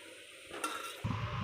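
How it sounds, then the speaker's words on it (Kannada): Curry leaves and coriander hit hot oil in a tempering for a boiling rasam-style curry, giving a short, faint sizzle. A light clatter of a utensil follows, and a louder low rumble begins partway through. "ಒಗ್ಗರಣೆ ಕೊಟ್ಟು ಹಾಕಿ. ಹಾಕಿ. ಬೇವಿನ ಸೊಪ್ಪು. ಓಕೆ, ಕರಿಬೇವಿನ ಸೊಪ್ಪು ಮತ್ತು ಕೊತ್ತಂಬರಿ."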